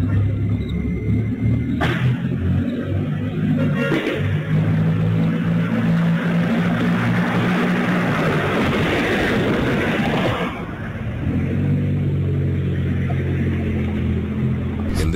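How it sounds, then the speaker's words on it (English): A Mercedes car speeds through city streets at night, caught on surveillance footage: a loud, rough rumbling roar builds and sweeps past over several seconds, with a few sharp bangs near the start. "In this footage, we hear gunshots and then that same Mercedes car speed through the streets."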